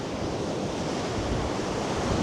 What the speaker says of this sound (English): the waves are coming up really, really high